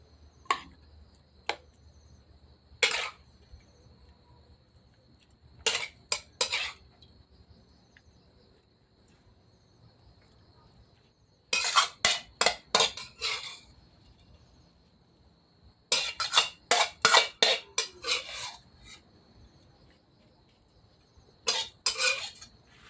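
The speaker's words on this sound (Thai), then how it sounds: "ใส่จานเลยนะครับ" A spoon scrapes and clinks against the pan and plate in repeated quick bursts while stir-fried minced pork with holy basil, pickled bamboo shoots and tree basil leaves is served. A faint steady insect-like chirp sits underneath.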